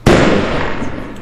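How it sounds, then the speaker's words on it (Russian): Fireworks go off inside the Roblox game Build a Boat: a sharp burst opens into a loud, sustained crackling shower that fades slowly, with no talking over it. "Ии, салютик."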